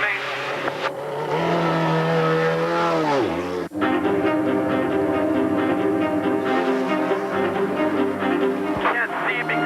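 A Chevy-powered Indy Racing League car engine at the 2002 Chevy 500, running on track as it revs, shifts down with a sharp dip and climbs again, loud and close under a radio voice.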